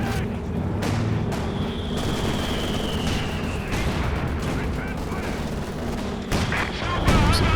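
Machine gun and artillery fire in the strategy game Company of Heroes 2, a steady dense stream of shots and booms under battle noise, with a heavier burst near the end.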